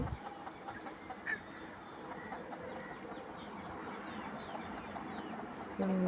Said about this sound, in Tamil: மேலே கோழி எல்லாம் உட்காந்துருக்குறாங்க